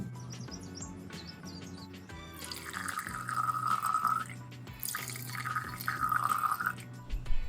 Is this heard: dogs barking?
no